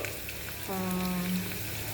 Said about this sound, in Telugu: వెల్లుల్లిపాయలు చక్కగా వేయించేసాను ఇలాగా